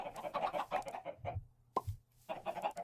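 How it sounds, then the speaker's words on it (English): Minecraft chicken clucks in short bursts, with busy game sounds before and after and a couple of soft thuds in a quieter gap; no talking. "Oh, little chicken, how did you get out of there?"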